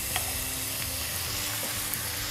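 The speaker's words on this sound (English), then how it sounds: "Now you're gonna add some onions" Onions sizzle in hot cooking oil in a pot, a steady hiss with a few small pops and clicks, heard alone without talking.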